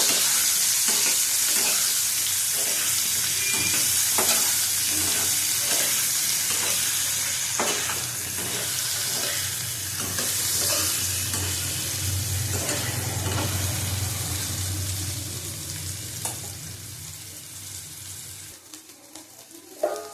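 Potatoes frying in oil in a pan give a steady, loud sizzle with repeated scraping stirs throughout, the hiss easing slightly near the end; no talking.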